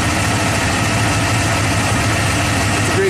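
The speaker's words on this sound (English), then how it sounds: "Right now, at idle, that cylinder is misfiring." A Ford big block V8, freshly rebuilt, idles with one cylinder misfiring, giving a loud, steady low rumble with a faintly uneven pulse throughout and no talk.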